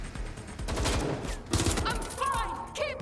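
Rapid gunfire bursts from a weapon in the video game Watch Dogs: Legion, a quick string of loud crackling shots followed by brief metallic clicks and game effects, with a player's voice speaking over them.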